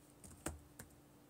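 A computer keyboard being typed on to enter names into a boxing records website, heard as a few separate, faint keystrokes spaced apart in a quiet room.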